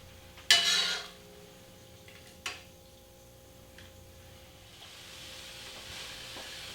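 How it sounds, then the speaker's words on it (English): Cooked noodles and stinging nettle tipped straight from a colander into a pan, giving a sharp clatter and rustle at the start, then a second brief knock, followed by quiet kitchen ambience. "So instead of draining the colander, I'm just going to put them directly into the pan like this."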